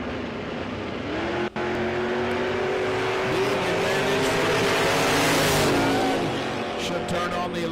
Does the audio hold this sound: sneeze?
no